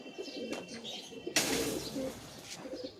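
Low pigeon coos repeat in a close, soft rhythm, with a sudden rustle or flutter breaking in partway through.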